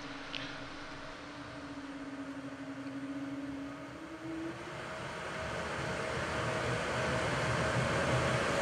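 Jet engines of an Airbus A220 spool up for takeoff from Riga, a rising tone sweeping upward and then a broad roar building steadily in loudness, heard from inside the aircraft.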